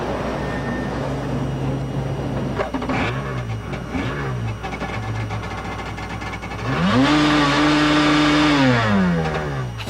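A brand new Kawasaki stand-up jet ski engine starts and revs hard at close range, rising in pitch in short bursts before a long, loud sustained rev that climbs, holds and drops.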